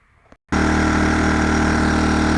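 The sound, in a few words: generator running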